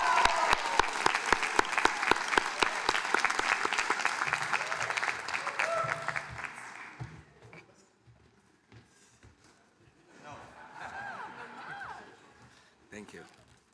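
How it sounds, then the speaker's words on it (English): Loud, dense applause from a graduation ceremony crowd at Les Roches Crans-Montana fills the first seven seconds, then fades out, and a speaker starts talking in a quieter hall. "Please give him a round of applause."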